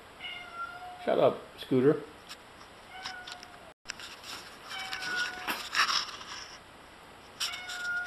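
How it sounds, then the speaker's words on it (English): A hungry house cat meows in two loud, drawn-out whiny calls near the start, followed by quieter background sounds while a person speaks briefly. "That's my whiny little cat. She's hungry."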